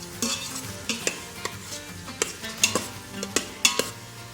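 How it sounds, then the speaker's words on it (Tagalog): Marinated beef sears in a hot pan for beef kaldereta, giving a steady sizzle under a series of sharp metallic clinks and scrapes from a spatula stirring the meat. No one talks. "So, lutuin lang natin to for a few minutes without adding anything until mag-iba yung color ng beef."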